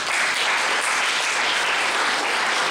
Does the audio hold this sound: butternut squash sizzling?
no